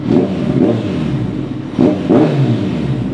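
A Kawasaki ZX14R motorcycle fitted with a new MIVV aftermarket exhaust, revving close by in repeated throttle blips that swell into loud bursts and settle back to a rumbling idle, with no talk.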